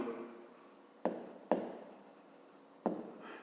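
Pen or chalk writes out a math expression in a quiet room, soft scratchy strokes broken by a few sharp taps as the tip meets the surface.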